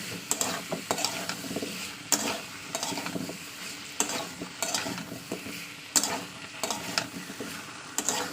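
Potatoes and taro stir-fried with spices in a pan, hissing steadily as a spatula scrapes and clinks against the metal in irregular strokes, close and fairly loud with no talk.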